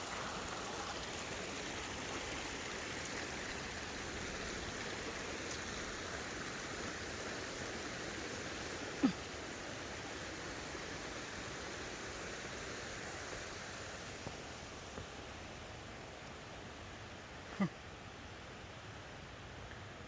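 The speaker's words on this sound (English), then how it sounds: "There is a river. It's the water from the lake probably." River in the French Alps, probably fed by a lake, gives a steady, close rushing wash of flowing water with no break over twenty seconds, and only two faint clicks on top.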